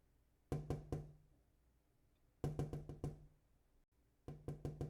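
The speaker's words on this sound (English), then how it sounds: "Kind of sounds like a gentle knocking on a window, you know? Like someone just tapping." Gentle knocking on a window in three separate bursts of several quick taps each, close and fairly crisp against a quiet background, with no voices.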